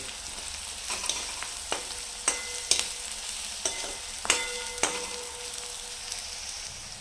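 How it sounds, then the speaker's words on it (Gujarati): Ginger garlic paste fries in hot oil in a pan for paneer bhurji, a steady sizzle with sharp scraping stir strokes at irregular intervals, close and alone with no talk. "આદું અને લસણની જે કાચી સ્મેલ હોય જતી ન રહે ત્યાં પકાવશું આપણે"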